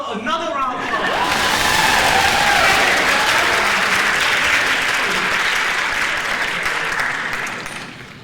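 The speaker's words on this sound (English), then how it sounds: "Please give her another round of applause." Loud applause and cheering from a cabaret audience, a dense roar of clapping with some voices that swells quickly, holds for several seconds, then tapers off.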